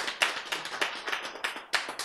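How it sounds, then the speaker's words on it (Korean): A small audience claps close by in a lecture hall, a quick run of uneven, separate hand claps without talk. "박수."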